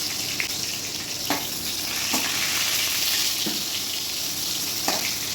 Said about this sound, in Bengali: এদিকে দেখো, পটল ভাজা ভাজতে বসিয়ে দিয়েছি